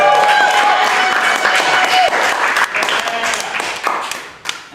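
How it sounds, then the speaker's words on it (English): Audience applause during a stand-up comedy set, a dense wash of clapping that stays loud and then tapers unevenly, with voices mixed in underneath. "give me more round of applause"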